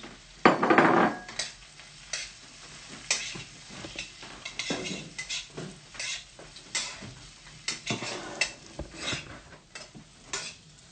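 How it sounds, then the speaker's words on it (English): Green beans stirred into a spice mixture with dried curry leaf in a pan for green bean bhaji: repeated scraping and clinking stirs with soft sizzling, close and fairly quiet, no talking. "in go our beans now, and stir that mixture around"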